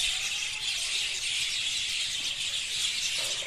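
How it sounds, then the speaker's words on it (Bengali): Birds call in a calm outdoor setting, forming a steady, dense, high chorus that runs without a break and with no one talking. "শান্ত পরিবেশের সাথে দেখো পাখিদের যে সুন্দর একটা ডাক"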